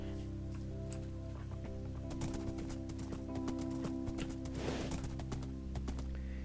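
Horses' hooves clip-clopping in a Lord of the Rings game, a steady run of sharp hoof beats over a humming background, fairly close and moderately loud with no talk over them.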